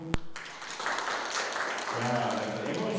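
An audience claps steadily at an International Day of the Girl Child celebration, a continuous wash of applause that holds for the full stretch, with voices mixed in underneath.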